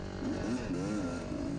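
A racing motorcycle engine revs during a Super Senior C cross-country race at Whispering Willow, a steady buzzing drone with rising and falling pitch, close and continuous.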